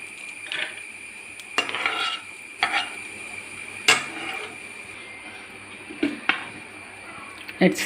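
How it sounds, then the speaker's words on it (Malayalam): Roasted nuts are scooped out of a pan of hot ghee with a metal spoon, making intermittent close clinks and scrapes against the pan over a soft, low sizzle. "നട്ട്സ് അത്യാവശ്യം ഒരിഞ്ഞിട്ടുണ്ട് അത് ഞാൻ കോരി എടുക്കാം"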